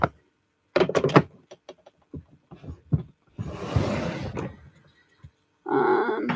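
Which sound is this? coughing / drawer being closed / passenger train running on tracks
drawer being closed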